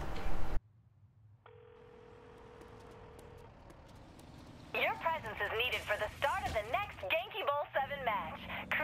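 A phone in Saints Row The Third gives a single long tone, with a low in-game hum underneath, and then a lively exchange of voices follows.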